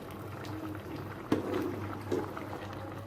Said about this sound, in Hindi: अब जो है वो इसको अपने शोरबे के पानी में थोड़ा सा हम पकाएंगे।